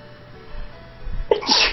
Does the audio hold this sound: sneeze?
yes